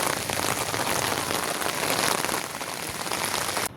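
Heavy rain falls on temple grounds in Bhubaneswar, a thick continuous hiss of drops close by that stays steady throughout and cuts off sharply at the very end.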